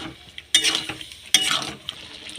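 A spoon scrapes and stirs potato and pointed gourd curry in a pan, giving two bursts of wet, sizzling stirring close up over a quiet simmering background.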